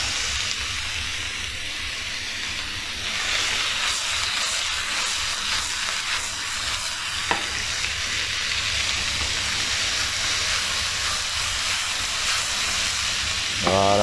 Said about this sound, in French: n'hésitez pas à laisser bien saisir encore 1 minute, 1 minute 30